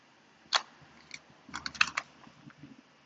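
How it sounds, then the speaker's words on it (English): Tarot cards being shuffled by hand: a single crisp riffle, then a quick cluster of papery flicks and taps, soft and close, with no talking. "I cleanse my cards, I shuffle my cards."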